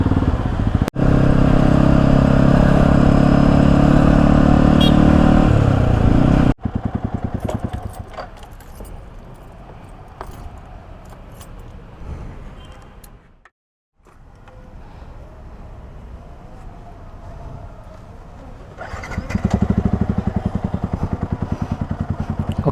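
Heavy weekend traffic jam on a town street, with motorcycle engines idling and revving close by among cars, loud at first, then a quieter stretch of rumbling traffic with a brief dropout and a louder engine swell near the end.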